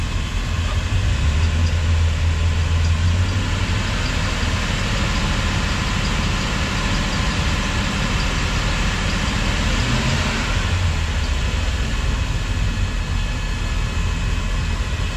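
Volvo Penta boat engine running steadily at about 650 RPM idle, a loud continuous droning rumble with broadband mechanical noise. Low pulsing swells come and go but never rise into a clear rev.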